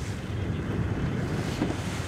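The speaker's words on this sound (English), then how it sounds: "so the trade winds are picking back up. They're going from the east to the west, and you get these big waves now on the boat" Strong trade wind buffets the microphone on a boat off Curacao, with waves washing and surging beneath a dense, steady roar of wind noise and no talk.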